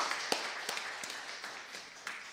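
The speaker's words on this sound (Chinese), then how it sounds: "我们拍手欢迎他们。" A church congregation claps in welcome at a Sunday worship service, a faint, scattered patter of hands with a few sharper claps standing out, fairly distant and without talk.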